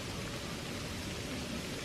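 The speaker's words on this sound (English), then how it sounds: "That's rain hitting the trees." Rain falling on trees in woodland, a dense steady hiss of drops pattering on leaves that fills the whole moment evenly, with no voices.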